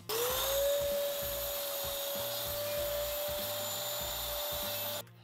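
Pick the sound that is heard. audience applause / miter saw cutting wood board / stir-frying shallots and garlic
miter saw cutting wood board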